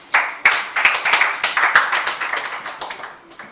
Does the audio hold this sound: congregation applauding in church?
yes